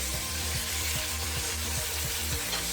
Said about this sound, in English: this is where we put in all the celery, carrots, and onions, and the garlic too